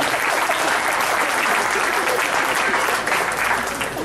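Sustained applause from a large audience at an engineering alumni convention banquet, a dense steady roar of many hands clapping continuously throughout, loud and close, with no voices over it.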